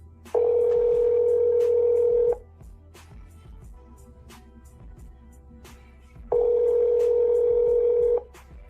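A telephone call tone sounds as two long, loud, steady tones of about two seconds each, separated by a roughly four-second gap of quiet line hiss, with no voices.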